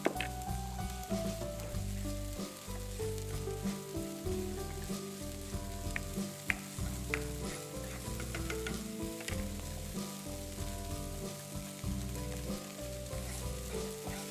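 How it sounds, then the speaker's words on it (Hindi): Finely chopped onions fry in a pan, giving a continuous, even sizzle with scattered crackles, steady and close for the whole stretch, with no voices over it. "अब लीजिए, प्याज ये भुन चुका है।"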